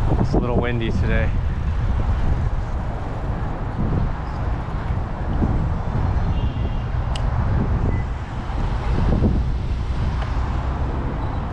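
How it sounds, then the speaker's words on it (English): Wind buffets the microphone in a waterfront parking lot, a steady rumbling roar throughout with gusts and passing traffic, while a voice speaks briefly near the start. "Windy today."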